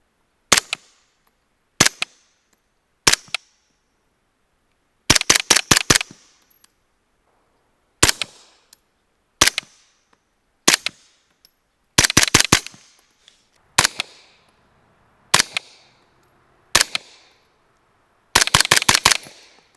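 Gunfire through a Replicator USA Ventus-9 flow-through suppressor: sharp cracking reports in single shots and quick strings of several rounds, loud and close, separated by silent pauses.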